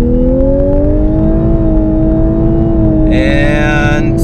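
A 2018 Lexus LC500h hybrid coupe revs from standstill and launches, a loud rising engine drone heard from inside the cabin, with a higher whine coming in near the end.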